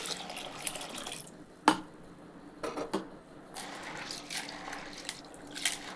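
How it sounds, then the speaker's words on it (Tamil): Yellow split peas are rinsed in water in a bowl: quiet swishing and splashing with pouring water, a sharp clink of the bowl early on, and intermittent sloshes. No one speaks. "இப்போது தண்ணி ஊற்றி நல்லா ஒரு 2 வாட்டி அலசிட்டு"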